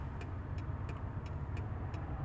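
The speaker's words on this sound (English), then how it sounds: "traffic." Road traffic with cars passing by, a steady broad rumble heard from inside or beside the road, with faint regular ticking clicks over it and no talk.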